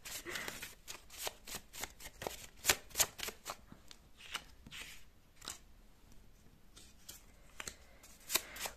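Tarot cards are shuffled by hand in a quiet room for a pick-a-card reading, with a run of crisp, close riffling snaps and flicks in irregular bursts and no talking.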